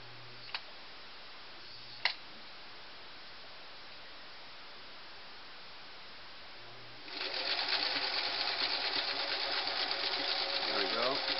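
Singer Model 347 sewing machine running a zigzag stitch: a couple of faint clicks over quiet hum, then a fast, steady mechanical whirring chatter starting partway through and continuing to the end, close and fairly loud.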